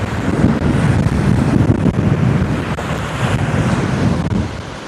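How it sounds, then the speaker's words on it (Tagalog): Strong wind roars steadily against the microphone during gusty rain showers, a dense low rumble with gusty surges throughout and no voices. "Pabugso-bugso ulan tsaka malakas ang hangin."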